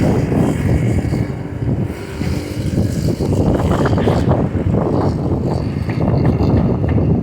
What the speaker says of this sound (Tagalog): Ang lakas lang po ng hangin.